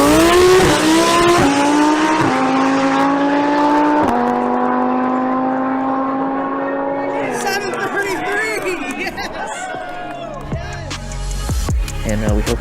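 Engine of the AMS Alpha Omega Lamborghini Huracan drag car, loud and close, with revs climbing in stepped shifts before easing off into a rougher, clattering idle amid crowd chatter.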